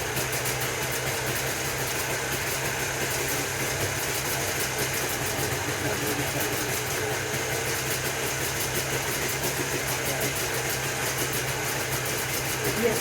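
A restored Jawa 350 motorcycle engine runs steadily, a continuous mid-pitched idle with a fine rapid pulsing, heard alone and at moderate distance throughout.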